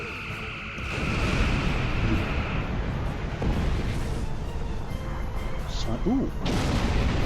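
Torpedoes launching and detonating in the space combat game Star Trek Online, a sustained roaring blast with rumbling booms and a rising whoosh near the end, under a brief spoken exclamation and game voices.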